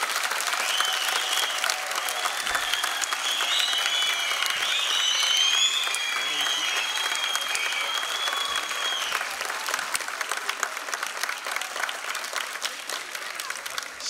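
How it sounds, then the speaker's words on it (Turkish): Steady, full audience applause at a children's theater graduation ceremony, many hands clapping continuously in a hall, with a few faint voices and whistle-like tones mixed into the ovation as it gradually eases. "Daha güçlü bir alkış lazım."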